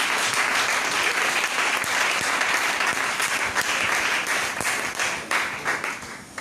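Applause from a church congregation, many hands clapping steadily and loudly throughout, with the sound tapering off slightly toward the end.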